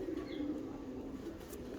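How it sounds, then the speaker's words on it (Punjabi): A low, throaty pigeon coo hums steadily through the short stretch, soft and close, with faint background noise. "ਸਾਕੀ ਦੇ ਤਾਂ ਕਬੂਤਰ ਕਿਸੇ ਕੰਮ ਦੇ ਨਹੀਂ ਹੈਗੇ।"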